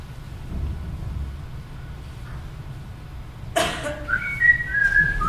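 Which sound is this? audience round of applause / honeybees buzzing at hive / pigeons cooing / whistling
whistling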